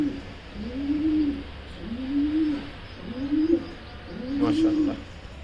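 A large pair of racing pigeons coo at close range in a loft, giving four or five rounded, rhythmic coos in steady succession over a quiet background.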